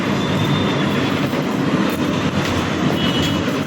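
A small amusement-park ride train, known as the peacock train, rolls past with a steady rumble and faint clatter of wheels on track, fairly loud and continuous, no voices.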